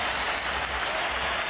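Barcelona supporters applaud inside a stadium at a Real Madrid versus Barcelona match, a steady, dense wash of clapping from a large crowd that holds at an even level throughout.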